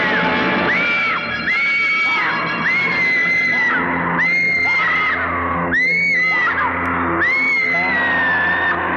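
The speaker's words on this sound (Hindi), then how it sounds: "चीखे मार मार के कतई कान के पर्दे ही फाड़ दिए इस बेटी चौथ ने" A woman in an old Hindi horror film screams again and again in a haunted ruin, each loud, shrill cry rising and falling over a dense, dramatic background with a steady, sustained level.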